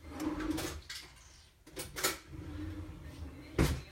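A drawer slides open and cutlery clatters as a spoon is taken out in a home kitchen, a few short knocks and rattles with a final sharp clack, heard close and moderately loud.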